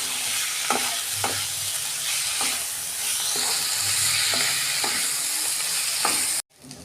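Sliced spine gourd and vegetables fry in a pan while being stirred, a loud continuous sizzle broken by repeated scraping strokes of a spatula, ending in a sudden cut.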